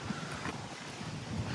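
Strong wind on the coast of the Comox Valley, British Columbia, buffeting the microphone in a steady low rumble with gusty swells, close and continuous.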